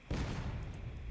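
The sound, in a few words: cannon fire in Civil War video game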